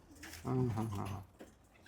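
A mature pigeon from last year's brood in a loft coos once, a short warbling rumble close by, with a voice speaking faintly around it.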